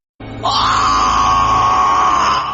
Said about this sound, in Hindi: तभी जंगल के अंदर से रवि का चिल्लाने का आवाज आता है।